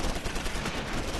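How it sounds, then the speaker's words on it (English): Bazooka fire in the WWII strategy game Close Combat V sounds as a dense, loud burst of booming, crackling gunfire lasting about a second, with no talk over it. "Shooting bazookas at us."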